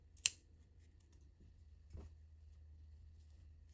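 Scissors cut through crochet yarn in one crisp, close snip near the start, then a quiet room follows with a faint second click.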